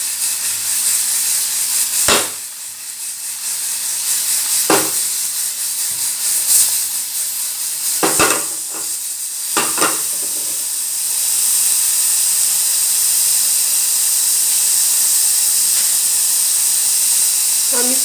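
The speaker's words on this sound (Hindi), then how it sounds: "हम इसे थोड़ा सा फ्राई कर रहे हैं" Boiled meat frying in a little oil in a pan, a steady hissing sizzle with several sharp stirring clatters in the first ten seconds, then an even, unbroken sizzle.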